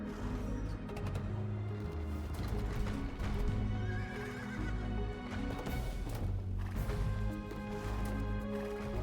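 Horses whinny and neigh over steady clip-clopping hooves and a dense, busy Age of Empires 2 battle soundscape, loud and continuous throughout.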